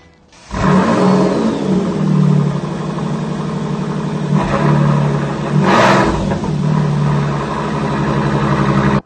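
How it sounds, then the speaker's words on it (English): Bentley Continental GT Supersports with titanium exhausts starting up, a loud close engine bark followed by a steady idle and a couple of short throttle blips, no voices. "I'm going to switch the engine on so you can hear those beautiful notes."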